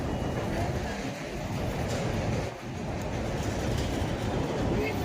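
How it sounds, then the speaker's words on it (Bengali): A train rolls steadily past near a temple on a rainy day, a continuous loud rumble with rhythmic clatter from the wheels that barely dips midway, with faint voices underneath. "এইদিকে না ট্রেন যাচ্ছে, তাই এরকম আওয়াজ হচ্ছে"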